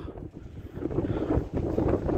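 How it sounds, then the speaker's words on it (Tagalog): Strong, cold wind at a high viewpoint in Abha, Saudi Arabia, buffets the microphone in gusty, rumbling bursts, loud and close throughout. "Sobrang mahangin."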